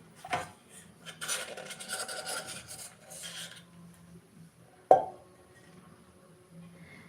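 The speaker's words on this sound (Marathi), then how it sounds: "अच्छा भांडी वाजलेला आवाज येतोय का" Metal kitchen vessels rasp and scrape together for a few seconds in a quiet room at night, followed by a single sharp clank, with no talking.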